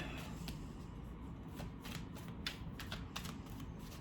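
Tarot cards riffle and flick in a quick, continuous shuffle, close but soft in a quiet basement changing room, with no talking.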